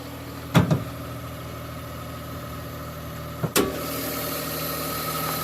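A turbocharged kei car engine runs at a steady, fairly quiet idle, with two sharp clunks or knocks standing out over it.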